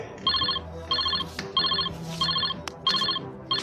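A telephone rings in five regular, bright electronic bursts, each roughly half a second long, with a low background hum running beneath and no talking.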